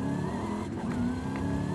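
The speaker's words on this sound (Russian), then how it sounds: "газую, видите?" A car engine revs in the racing game Forza Horizon 5, with a steady droning rumble and one brief throttle blip near the middle, loud and close throughout.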